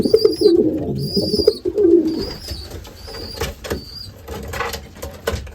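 Racing pigeons in a loft coo in a string of soft, repeated throaty calls, close and fairly loud, mixed with faint chirps and a few light knocks, with no talk.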